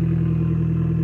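Fiat Abarth 695 70th Anniversario engine running, a steady low throaty drone with strong harmonics held at a constant level close by, no clear rise of a rev.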